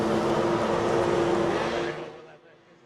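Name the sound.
550cc formula powerboat race engines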